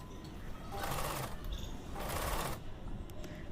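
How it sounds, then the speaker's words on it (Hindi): A sewing machine stitches elastic onto a dress in two steady bursts of needle running, each about a second long, with a short pause between them. The stitching sounds close and moderately loud. "यहाँ पे हम इसको इस तरह एडजस्ट करके इलास्टिक को सिलाई लगाएंगे"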